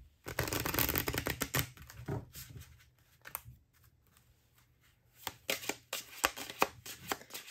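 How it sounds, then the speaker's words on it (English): Close riffling of tarot cards being shuffled, in rapid papery bursts separated by a quieter pause, with no talking. "let's get some more cards here so that we can get the full feeling of this reading"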